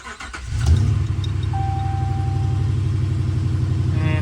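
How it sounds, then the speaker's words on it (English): A Ram 2500 pickup with a 5.7 HEMI V8 cranks briefly and catches, then settles into a steady, loud, close-up idle with an even low rumble that continues to the end. "Now we want to go ahead and start it."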